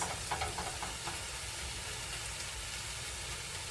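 Corned beef hash frying in a pan, a steady dense sizzle and crackle that holds at an even loudness throughout, with faint stirring scrapes early on and no voices.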